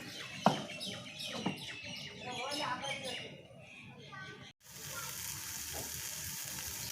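Beef spleen cooks in a pan on low heat, giving a steady sizzle and fry that runs through the clip. A few sharp clicks land near the start, and a brief cut is followed by the same constant frying.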